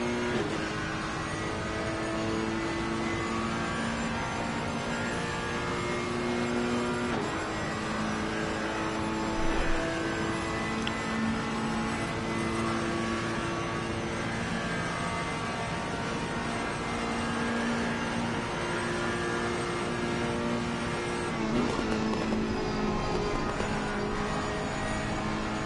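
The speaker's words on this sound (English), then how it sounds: "That Ferrari certainly is a handful over those bumps." Onboard engine sound of a Ferrari race car in a PS5 racing game at Paul Ricard, a loud continuous engine drone with shifting pitch as it accelerates and brakes, heard alone.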